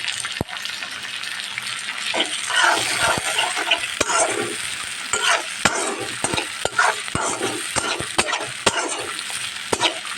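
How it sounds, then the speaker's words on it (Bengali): Small local shrimp and taro greens fry in a pan, giving a steady close sizzle broken by sharp clinks and scrapes of stirring. "এখন আমি কিছু কুচু চিংড়ি দেশি দেশি এগুলো আমি ঢেলে দিব একটু ভাজা ভাজা হয়ে গেলে"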